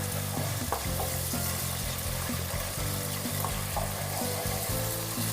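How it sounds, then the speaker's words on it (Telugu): Ginger garlic paste and green chillies frying in oil while being stirred, a constant close sizzle with repeated scraping strokes throughout, no speech. "కొద్దిగా అంతా అల్లం వెల్లుల్లి పేస్ట్ కూడా వేసుకోవాలి వేసుకొని బాగా పచ్చివాసన పోయే వరకు అల్లం వెల్లుల్లి పేస్ట్ కలుపుకోవాలి"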